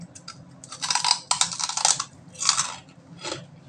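Crunchy, crispy pork skin chicharon bitten and chewed up close, a series of sharp crackling bursts with short pauses between them, no talk.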